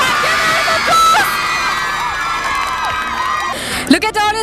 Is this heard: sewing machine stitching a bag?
no